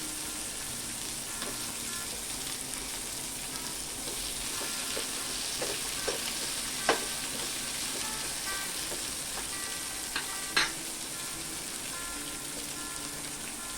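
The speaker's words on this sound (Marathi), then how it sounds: "हे आता आपण परतून घेऊया।" Tomatoes and cashews sauté in a pan for matar paneer, a steady close sizzle with a few sharp clinks of a spoon stirring against the pan.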